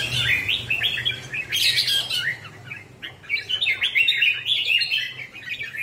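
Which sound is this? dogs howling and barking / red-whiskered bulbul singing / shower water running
red-whiskered bulbul singing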